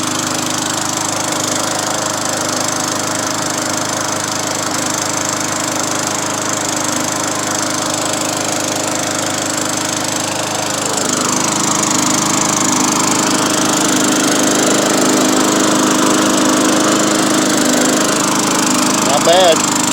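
Craftsman 20-inch 4hp push mower engine running steadily at close range with a loud constant drone, the slight skip and occasional backfire-like irregularity in its rhythm, getting a bit louder midway.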